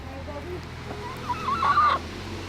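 A few backyard chicken clucks in Chicago and a drawn-out squawk rise briefly over steady low background hum, moderately close.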